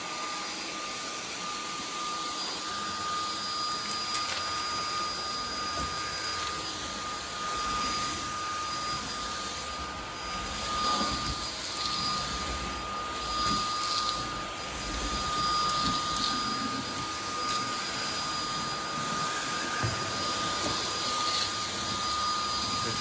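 A Samsung Jet 90 cordless stick vacuum with a soft roller head runs steadily on carpet, a continuous whining motor drone with a high tonal whistle that swells slightly as it is pushed around, near and unbroken.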